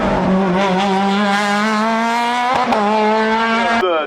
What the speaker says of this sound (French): Nicolas Mouisset avec la Rallye 3 2-0-0-792